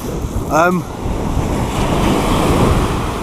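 Sea waves break and wash steadily onto a beach at Corton, Suffolk, a loud continuous roar of surf with heavy wind noise buffeting the microphone.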